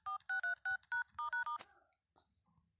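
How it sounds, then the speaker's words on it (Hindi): A code being keyed into an Android phone's dial pad gives a quick series of about eight crisp touch-tone beeps in an uneven rhythm, followed by near silence with faint background noise. "जैसा कि मैंने कोड डायल कर दिया"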